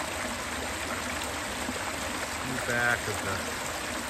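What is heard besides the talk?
stream water flowing at Peaks of Otter picnic area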